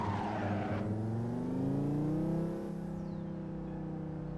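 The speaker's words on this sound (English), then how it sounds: "It sounds like a Volvo. I do think it sounds like a real Volvo, but with not with a catless. It's just a Volvo. 5-cylinder. This is how they sound." Five-cylinder engine of a Volvo S60R in a driving video game, a steady harmonic drone that climbs in pitch as it revs up, then settles at a constant tone, with no talk over it.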